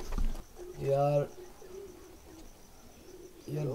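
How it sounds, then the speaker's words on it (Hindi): Bankay pigeons give two or three soft, low coos that rise and fade over a few seconds, heard close up against faint background noise. "बहुत हाई क्लास कबूतर"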